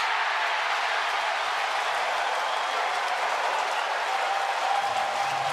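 At an Orioles baseball game against the Yankees, the stadium crowd cheers and applauds as one big, steady roar that fills the whole stretch without a break, loud and dense, with no clear voices over it.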